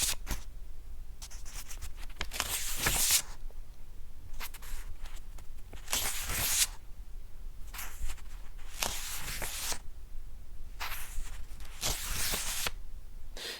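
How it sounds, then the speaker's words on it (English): Notebook or book pages turned by hand for Foley, captured on a Zoom H5 recorder, come as repeated papery rustles and flips in bursts, close-miked over a constant background hiss, with no talking. "It's just me doing Foley of pages turning in a book or a notebook."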